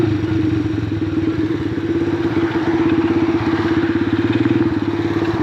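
A Venom X19 super pocket bike runs with a steady, close, buzzy small-engine drone and a fast pulsing rattle, holding an even, loud idle throughout.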